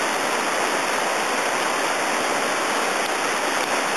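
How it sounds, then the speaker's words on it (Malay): A mountain river stream rushes steadily as a dense, constant wash of water noise, close and loud, with no voices or breaks. "adalah adat datang bermain di sungai pergunungan"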